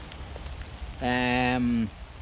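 Rain patters steadily and softly on a tarp shelter in the woods, broken for about a second by a short, humming tonal sound.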